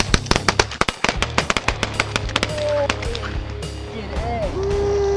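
Shotgun blasts during a pigeon hunt, a rapid run of sharp, loud reports in the first couple of seconds and more scattered shots after, with voices shouting nearby and a whistle-like tone near the end.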